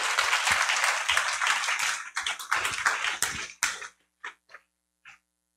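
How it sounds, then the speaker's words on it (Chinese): Lecture-hall audience at a panel on war and peace gives dense, loud applause for about four seconds, then it thins into a few scattered, isolated claps before falling silent. "我们鼓掌欢迎他"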